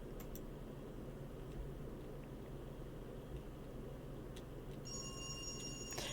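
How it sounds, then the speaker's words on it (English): In the horror video game Dread Weight, a telephone starts ringing late in a quiet, hissy stretch, its bright repeated ring sounding faint and distant as if echoing down a hallway. "The ringing echoes down the hallway."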